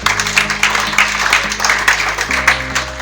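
Audience applause at a speech event in Kampala, Uganda, a dense steady patter of clapping over a low sustained musical hum, lasting a few seconds with small swells.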